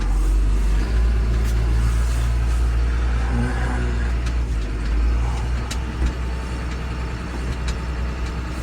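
A John Deere 7430 Premium tractor pulls away with a steady, heavy engine rumble that stays close and continuous throughout, with no talking.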